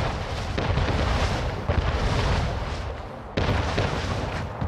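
Cannon fire from a naval battle in Anno 1800 pounds a gun placement, with heavy booming blasts rolling into one another over about five seconds, loud and sustained with sharp fresh hits near the start, middle and later on.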